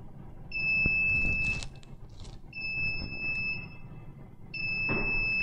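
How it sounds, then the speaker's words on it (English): UP! Mini 3D printer beeping as it prepares to start a print: three evenly spaced high electronic tones, each about a second long, clear over quiet background handling noise. "it beeps three times right before it's going to launch the print"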